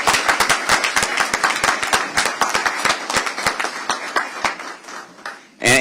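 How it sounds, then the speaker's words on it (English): Audience applause at a South Carolina school report card unveiling event, a loud burst of dense clapping that thins into scattered individual claps and fades before a voice briefly returns at the end. "let's give them a round of applause"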